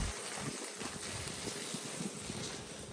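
A garden pipe runs at full flow, making a steady, close rushing gush of water throughout with no talk.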